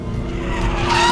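Hyundai Ioniq 5 N electric car drifting on the throttle, tires squealing in a steady, rising screech over low road roar, growing louder toward the end with no talking.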